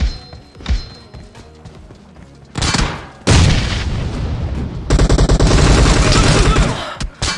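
Gunfire rattles through PUBG Mobile combat, with loud bursts of rapid automatic shots and heavy booming impacts dominating the mix, sustained for several seconds.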